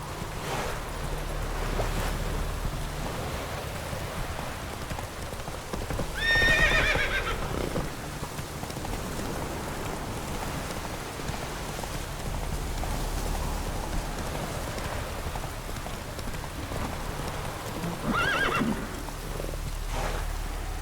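Roach the horse in The Witcher 3 gives two whinnies, a clear one early and a fainter one near the end, over steady clip-clop hooves and a washing surf-like ambience.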